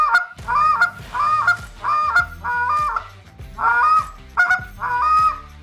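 A goose call blown in double clucks: about six loud, close, honking two-note bursts repeated in a steady rhythm with short gaps, alone with no talk.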